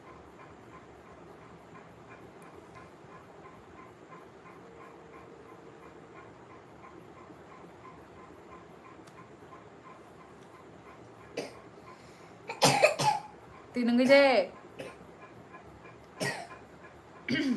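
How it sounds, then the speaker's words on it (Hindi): Train rumble runs steadily in the background, then several harsh coughs break out close by in quick bursts, with a brief voice between them. "खांसी निकल रहा है"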